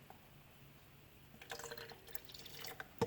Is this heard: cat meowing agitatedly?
no